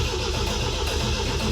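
A 1975 MGB engine cranks steadily without catching, a continuous mid-pitched churning drone that stays loud and even for the whole moment.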